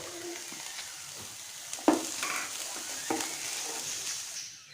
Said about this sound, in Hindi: इस तरह से चम्मच चलाते हुए 3-4 मिनट ऑनियन को भी हो गए हैं, प्याज भी हमारा लाइट सा फ्राई हो चुका है